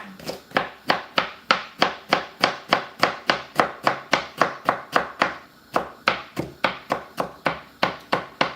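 Okra being chopped with a knife on a chopping board, about two dozen sharp, evenly spaced knocks in a steady fast rhythm, close and clear with no talking.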